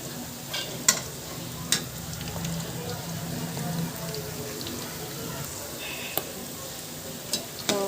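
Crispy barule snacks fry in a pan over a medium gas flame with a steady, soft sizzle. A few sharp clicks of a utensil come as they are turned, and there is no talking.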